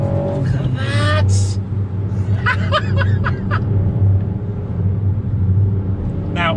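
A Ford Puma ST's petrol engine pulls hard up a climb on Pilot Sport 4S tyres, a steady loud drone throughout with brief higher bursts, while the driver talks and laughs over it.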